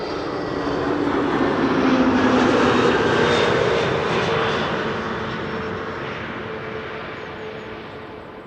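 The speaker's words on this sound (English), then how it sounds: "Flight 460, A321neo, arriving from Reykjavik in Iceland." An Airbus A321neo jet arriving from Reykjavik lands at Amsterdam Schiphol, its engine roar loud and broadband, swelling to a peak then slowly fading as it passes, with no voices.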